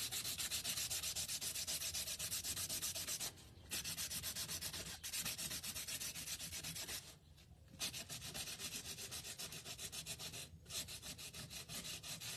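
Steady rubbing and scraping against a wooden DIY sign as paint is chipped off, a continuous close abrasive texture broken by a few brief pauses.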